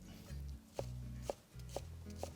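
A knife chopping a vegetable on a cutting board for a pureed vegan squash sauce, four crisp, evenly spaced cuts over a low steady hum, close and fairly quiet, with no talking.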